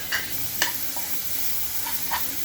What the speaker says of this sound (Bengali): এখন আমি মাছগুলো দিয়ে ভালোভাবে কষিয়ে নেব